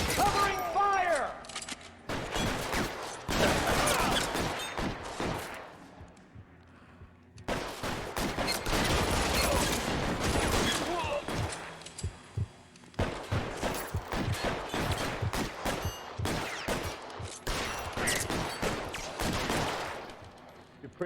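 Heavy gunfire in an L.A. Noire shootout: dense bursts of rapid shots and volleys, loud and close, broken by two short pauses, with voices heard between the bursts.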